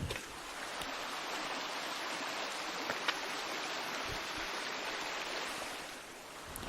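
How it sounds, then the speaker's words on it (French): A river runs in the distance along a trail, a steady broadband rush of water without pause, fairly faint and even throughout, with no voices. "Écoutez la rivière."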